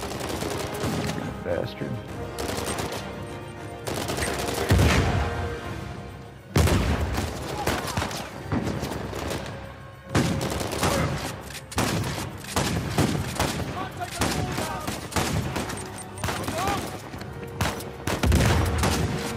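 Shotgun blasts and gunfire in the video game Uncharted 4, loud repeated booming shots in irregular bursts across a dense firefight, with someone speaking briefly between shots.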